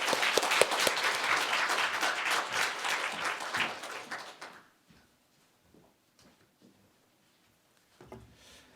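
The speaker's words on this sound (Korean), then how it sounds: "우리 박수로 화답하겠습니다" A church congregation claps together during a Sunday worship service, a brisk burst of applause lasting a few seconds before cutting to near silence with a few faint knocks.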